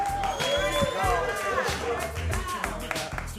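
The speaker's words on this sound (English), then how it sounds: "Start clapping right now." A comedy club audience claps as a comedian comes to the stage, with scattered sharp hand claps and whoops over crowd murmur while a host speaks loudly on top.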